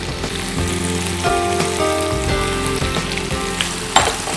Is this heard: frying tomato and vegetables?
yes